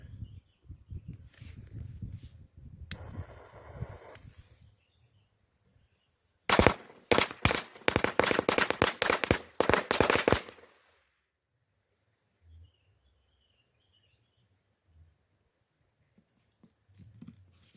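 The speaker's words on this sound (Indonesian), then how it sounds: "Ini dia selanjutnya petasan rentengan." A string of firecrackers goes off in a rapid, crackling burst of sharp pops lasting several seconds, loud and close, after some quieter rustling and a brief hiss, then quiet follows.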